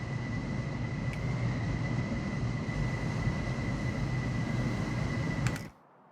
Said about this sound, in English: Train unexpectedly returned to the depot